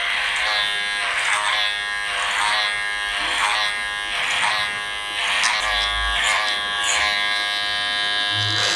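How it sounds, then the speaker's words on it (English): An electric hair clipper buzzes steadily while it cuts hair over a comb on a long-topped, formerly curly haircut. The close motor drone pulses slightly as the blades pass through the hair, and no one speaks. "one of the reasons why I do clipper over comb is bulk reduction"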